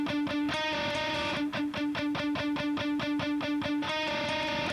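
Electric guitar playing a simple rock lead part, a repeated rhythmic pattern of plucked notes, moderately quiet and close, with no voices.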